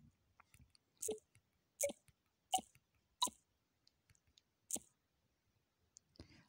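Quick taps on an Android phone's touchscreen Next button, about five sharp, evenly spaced clicks close by, alone with no talking.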